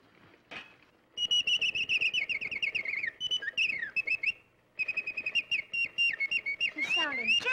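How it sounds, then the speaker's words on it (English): Rapid, whistled bird song trills close by in two long bursts of quick repeated chirps, bright and fairly loud, with a short pause between them. "We heard this other bird sing."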